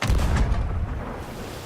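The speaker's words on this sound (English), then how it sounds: "Stepping back up to the cannon," A cannon fires in the pirate video game Sea of Thieves, one heavy low boom that rolls out into a broad rumbling tail.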